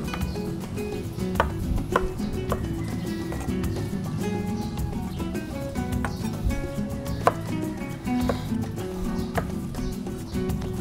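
Knife chopping fresh tomatoes on a cutting board in a home kitchen, a steady run of sharp, close taps that come in quick, uneven bursts over a low background murmur.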